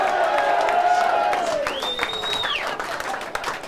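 At the MCG during a 1996 Friday night football match between North Melbourne and Carlton, a large stadium crowd applauds in a broad, sustained roar, with a voice talking over it and a tonal whistle rising partway through.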